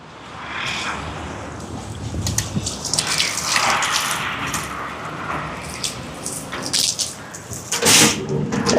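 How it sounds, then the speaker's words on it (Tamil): Water gushing and splashing as it is poured to fill a cooking pot for a rice and fish almsgiving lunch, uneven surges building over several seconds with a sharper splash near the end. "எங்களை உலைக்கு தேவையான அளவுக்கு தண்ணியை நிறைச்சி எடுப்போம்."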